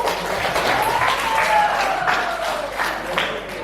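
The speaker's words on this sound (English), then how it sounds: "Give applause to Kak Embun." Applause on a podcast recorded with a small group, a short burst of clapping and cheering that swells and fades over a few seconds, with no speech and a faint tonal sweep underneath.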